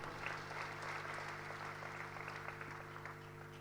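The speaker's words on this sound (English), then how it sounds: "Ladies and gentlemen, another round of applause for Richard and John." Faint applause from an audience at an annual members' meeting, steady clapping heard at a distance over a constant low hum for a few seconds.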